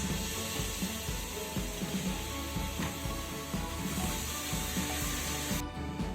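Masala of onion and spices sautéing in a pan after fresh curds go in, with okra biryani on the go: a steady, fairly loud sizzle and scraping stir runs throughout, with no voices.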